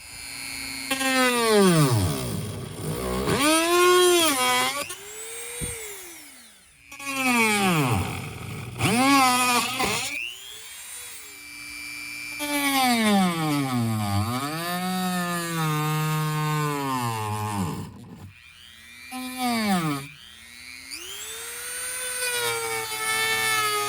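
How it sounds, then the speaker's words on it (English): A Dremel rotary tool cuts plastic trim beside a MUGEN rear strut bar in an Acura RSX DC5, giving loud, close whining bursts that sag and climb in pitch under load, separated by short pauses. "I'm just gonna start dremeling out this direction"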